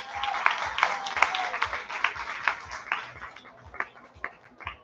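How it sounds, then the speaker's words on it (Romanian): Audience at a high school freshman ball applauding the participants, a dense round of clapping with distinct hand claps that thins out toward the end. "Vă rog să le acordați un rând de aplauze participanților."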